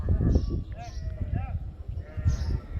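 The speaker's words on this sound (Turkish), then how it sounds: "Aşağıda koyun seslerini duyuyorum." Sheep bleat a few times in the distance over gusty wind noise, their calls rising and wavering briefly.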